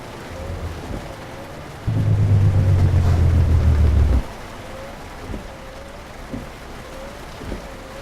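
Simulated rain on a truck in Euro Truck Simulator 2, a steady hiss of drops with a low engine drone, a louder rumbling swell for a couple of seconds, and scattered soft thumps, no talk.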